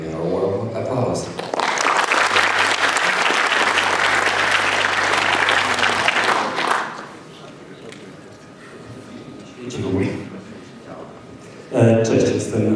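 Warm applause from a conference audience at a programming lightning-talk session fills a long stretch of the clip. Voices and quieter room sound come before it, and talk and noise follow after it fades.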